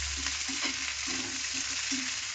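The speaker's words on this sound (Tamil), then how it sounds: "வெங்காயம் ஆட் பண்ணி நல்லா கலரிக்கணும்" Onions fry in a pan for chana dal chutney, giving a steady hiss and sizzle with intermittent scraping stir strokes, close and continuous with no talking.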